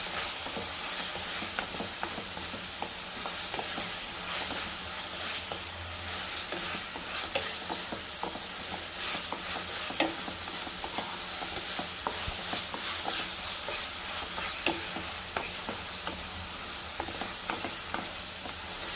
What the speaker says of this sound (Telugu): సో ఇప్పుడు దీన్ని బాగా మిక్సీ కలిపేద్దాం.